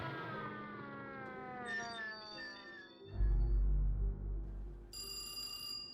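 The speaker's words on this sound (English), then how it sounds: "An ambulance raced to the scene to try and administer any aid they could." A wailing ambulance siren rises and falls with gliding tones, fairly faint and set against a low rumble, with a bright ringing tone entering near the end.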